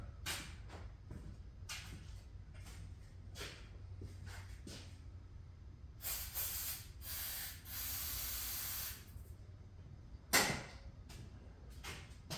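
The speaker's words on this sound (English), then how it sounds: "Oh, I'm almost out of brake clean." Brake cleaner sprays from an aerosol can onto a Honda CB 750 chopper motorcycle, in several short hissing bursts followed by a longer sustained blast, then a sharp clunk near the end, all close by with no talking.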